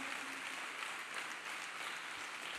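A church congregation claps for Jesus Christ, a dense, steady wash of many hands applauding together at close range for the whole stretch, with no voices standing out.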